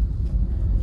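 A car driven by a learner on the road, its engine giving a steady low rumble close by with no sharp rev rise, running on alone without talk.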